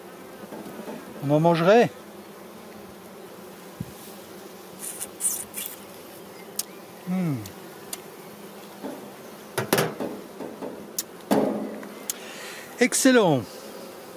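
Honeybees hum around an open hive during a spring apiary inspection, a steady close buzz broken by louder passes of individual bees, while a person talks briefly at intervals.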